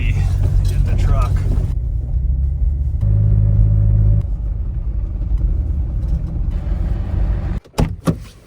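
A Jeep rumbling down a rough dirt road toward a canyon trailhead, its engine and tyre noise loud and continuous from inside the cab, with a few knocks and jolts near the end.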